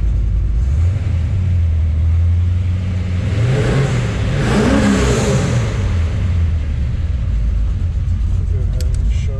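A frame-off restored 1957 Chevrolet Nomad restomod, still cold, idles and then revs up in one smooth rising and falling swell before settling back to a loud, close, steady rumble.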